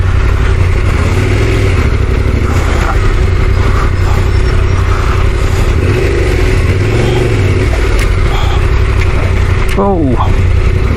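Motorcycle engine labouring at low speed through soft sand on an adventure ride in South Australia's Coorong, a steady mid-pitched drone with wind noise throughout and a rider's voice briefly over it near the end.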